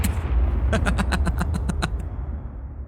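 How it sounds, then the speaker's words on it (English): A bomb dropped from a ship in the Star Citizen game explodes, followed by a fast train of loud, evenly spaced bursts that tail off after about two seconds, with a brief voice near the start. "So I'm just gonna drop a bomb now."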